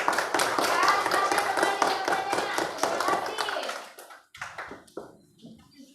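Classroom applause for a student named Nurul during an Indonesian school lesson, a few seconds of steady hand clapping that thins out and fades into scattered claps.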